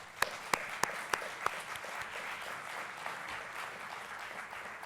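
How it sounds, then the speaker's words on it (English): A meeting audience gives a round of applause after a motion is proposed and seconded; a few sharp, separate claps stand out at first, then the clapping settles into a soft, faint patter. "Could we show by a round of applause?"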